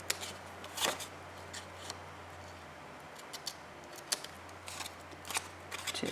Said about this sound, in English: And just cut that at a slight angle there.